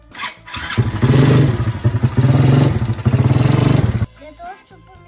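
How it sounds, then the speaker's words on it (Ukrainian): Petrol ATV quad bike engine warming up and riding off, a loud, uneven revving drone with clattering, running for about four seconds before cutting to quieter background. "Я залию бензин і буду прогрівати свій квадроцикл. Проїдуся, щоб масло розігрілося."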